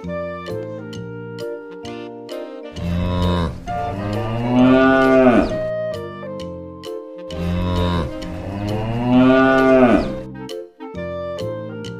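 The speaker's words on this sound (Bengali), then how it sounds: "গরু বাছুর দাঁড়িয়ে আছে।" A cow moos loudly twice in long, drawn-out calls, with rhythmic musical tones playing before, between and after the lows.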